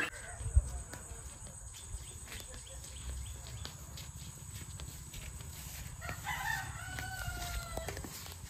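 A rooster crows in a village among desi country chickens, a faint, drawn-out call rising near the end over steady low rumble and insect chirping.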